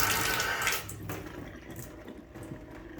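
Water trickles and drips from a plumbing fitting after a quick repair, a close running splash that is strongest at first, then thins to a softer patter.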